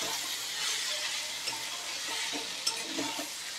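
Fried valpapdi beans are stirred into hot spiced oil, a constant soft sizzle with scraping stirs and one small clink, close and with no talking.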